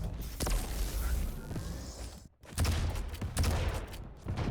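Light machine gun fire in an AQL Division 1 match between mike and SHrulez, heard as dense, ragged bursts of shooting with thuds and scuffing footsteps, a brief gap midway, then more rapid firing.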